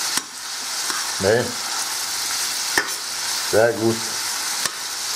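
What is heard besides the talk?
bacon frying in a pan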